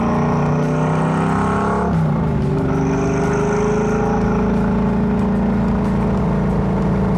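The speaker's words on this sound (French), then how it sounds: "C'est ça qui est bien avec les vieilles américaines, les V8 old school." An old American V8 car cruising at about 50 km/h, a loud close-up rumbling exhaust note that shifts pitch with a gear change near the start and then settles into a steady deep drone, with no talk.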